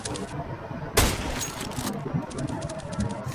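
In CSGO, a scout sniper rifle fires once with a sharp, loud crack, followed by a brief decaying tail, over steady in-game background noise.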